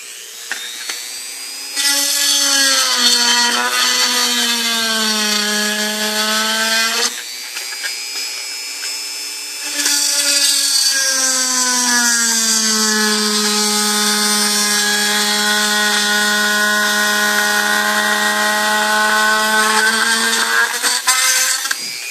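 A high-pitched power tool whines loudly as it cuts through an aluminum panel for an interior, its pitch dipping under load, running in two long passes with a brief pause between.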